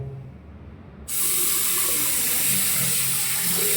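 Water gushes steadily from a newly installed shower or faucet in a bathroom under construction, starting abruptly after a quiet moment and continuing as a loud, even hiss.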